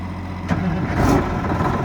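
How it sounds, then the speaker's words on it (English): A Detroit 6V92 diesel engine in an MCI bus conversion cranks and catches, settling into a steady, rumbling idle close by. "And this is a 6V92 Detroit engine."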